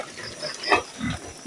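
A caught native pig gives short, faint grunting squeals in a rural setting, two or three brief bursts with a little background noise.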